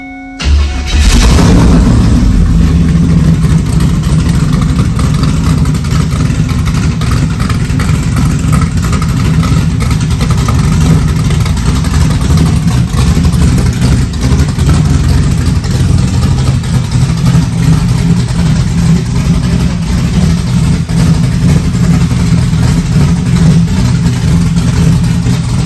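A 408 engine in a Ford Fox-body car cold-starts with a loud crank and catch, then runs steadily at a lumpy idle close by, with a few revs over about 25 seconds.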